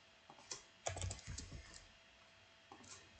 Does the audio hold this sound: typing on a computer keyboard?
yes